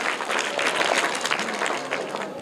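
A group of schoolchildren claps loudly for a correct quiz answer in a classroom, a brisk, dense burst of many small hands that keeps an even level throughout.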